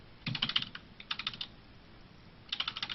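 Computer keyboard typing during StarCraft ZvZ practice, rapid clustered bursts of key clicks in three quick flurries separated by brief pauses, close and fairly crisp with no talk over it.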